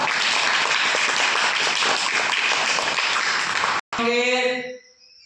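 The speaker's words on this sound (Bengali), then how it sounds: "জোরে হাততালি দাও" A classroom of students claps loudly and steadily after a school quiz answer, a dense burst of applause that stops abruptly and is followed by a short ringing voice-like tone fading out.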